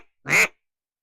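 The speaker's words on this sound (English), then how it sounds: "Ducks." A single loud, nasal duck quack close by in a duck blind in Arkansas, one short burst followed by silence.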